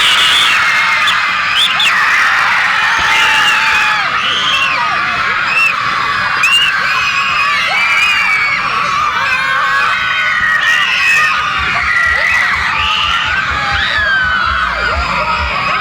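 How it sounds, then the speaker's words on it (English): Children scream, shriek and cheer together at a bounce house birthday party at Big Bounce America, a loud, dense and unbroken crowd roar that holds for the whole stretch. "let me hear you scream!"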